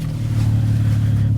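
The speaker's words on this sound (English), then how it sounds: "You guys can hear the sound of that RK titanium" A loud, deep exhaust burble from a Toyota MK5 Supra with a top-mount turbo and RK titanium exhaust, idling steadily up close in sport mode, a low throaty rumble with slight pulsing.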